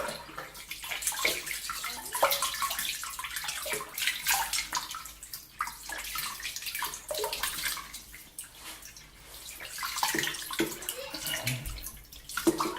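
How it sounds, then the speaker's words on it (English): Hot water pours steadily from a tap nearby, a continuous hissing splash with small fluctuations and occasional drips, no talking. "I'm going to put some hot water on."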